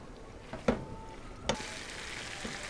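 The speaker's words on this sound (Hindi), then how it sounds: "चिकन को हमने क्रीम के साथ अच्छी तरह से मिक्स कर लिया है और 2 से 3 मिनट तक हमने इसको हल्की आंच पर भून लिया है" Chicken pieces mixed with cream fry in a pan for chicken malai boti, making a soft, continuous sizzle broken by a couple of sharp spoon knocks.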